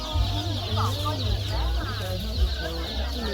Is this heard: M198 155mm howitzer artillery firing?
no